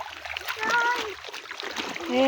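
Water splashes and sloshes in shallow water as something is washed outdoors, with a voice and other talk over it and birdsong-like tones in the background.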